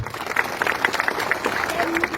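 An audience claps at a local ceremony where a legislator hands out housing site allotments. The applause is steady and fairly close for about two seconds, with scattered voices mixed in.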